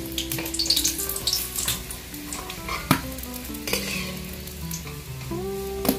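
Singara (samosa) frying in hot oil, a close, steady sizzle with bubbling crackle and occasional clatter of a spoon or utensil stirring in the pan.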